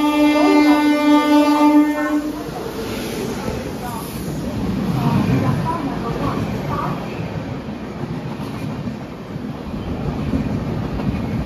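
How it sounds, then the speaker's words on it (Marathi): A train horn blares at the start, then a fast Mumbai local train rumbles and clatters past platform 1 at Ulhasnagar station close by, loud and steady, with a faint voice in the background. "एक जलद गाडी जाणार आहे."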